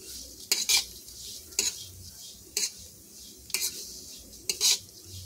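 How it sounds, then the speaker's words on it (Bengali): Moong dal frying in oil for a vegetarian cauliflower dal, with a steady soft sizzle beneath five sharp scraping stir strokes of a utensil against the pan, spaced about a second apart, close and moderately loud. "আমি তেল দিয়ে এটাকে আবার ভালো করে ভেজে নেব"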